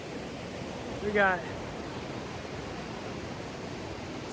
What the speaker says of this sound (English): The water's rushing pretty good right over here, and making some loud noise